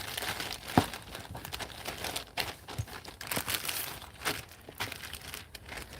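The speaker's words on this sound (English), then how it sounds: "Just get folding that up again to put it back in that plastic bag" A plastic bag crinkles and rustles up close as it is folded, with irregular crackling bursts and sharp crunches continuing throughout, no voices.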